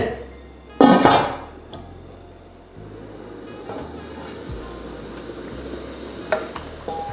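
A lid drops onto a cooking pot of water set to boil with one sharp metallic clatter, followed by a low, quiet background hum.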